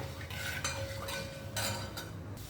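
Fenugreek seeds fry in oil while a utensil stirs them against a metal pan. A few distinct scraping strokes sit over a faint, low sizzle, close and fairly quiet, with no talking.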